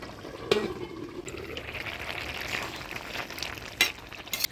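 Bengali bata fish curry with potato, eggplant and gourd shoots bubbles under a covered pot, a quiet continuous simmering hiss broken by a few sharp clinks.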